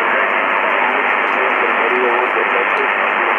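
Received amateur radio transmission on a ham station during pileups on Radio Day, a continuous band-limited hiss with a faint, muffled operator's voice buried in the noise, loud and steady throughout.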